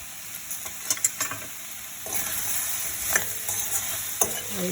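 Okra and potatoes cook in a pan without oil, giving a soft steady hiss with a utensil clinking and scraping in occasional short bursts while being stirred.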